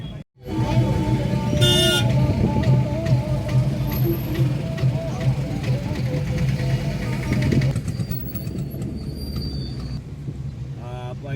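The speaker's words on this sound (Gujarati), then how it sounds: "આ સાઈડ ફૂલ છે આવો ટ્રાફિક જામ કરી દીધો" Traffic jam on a market road beside a produce yard, with car engines idling close, several horn toots, and people talking in the background.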